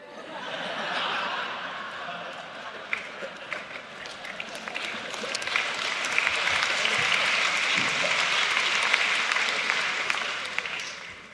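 An audience at a spring commencement ceremony claps steadily for several seconds, a dense wash of applause that swells toward the end, with faint laughter mixed in and no speech over it.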